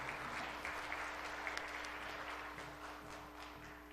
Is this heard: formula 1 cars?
no